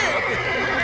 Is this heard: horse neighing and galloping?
yes